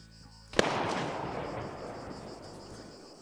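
A single sharp gunshot in a video game rings out, followed by a long echoing rumble that slowly fades.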